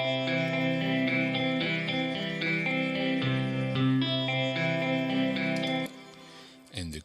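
Guitar through Guitar Rig 6 using a tweaked Silver Phase preset in a song verse, a steady strummed and picked part with a swirling modulated, effected tone, moderately quiet before fading out at the end.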